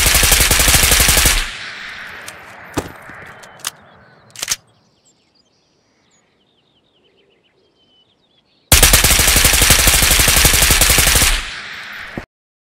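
A Kriss Vector fitted with a T-Grip fires in the Ghost of Tabor video game: two loud, rapid full-auto bursts separated by a stretch of near silence with a few scattered single cracks.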